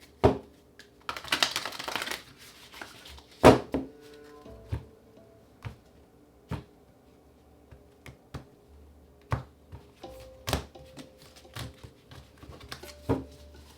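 Tarot cards being shuffled in short riffling bursts and scattered light taps, close and fairly quiet, with a brief dense flurry early on and isolated clicks after.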